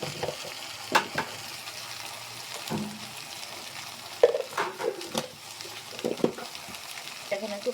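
Turmeric and chili powder sizzle in hot oil in a pan for a tomato khalla fish curry, with a steady fry hiss broken by scattered spoon scrapes and light clinks of stirring.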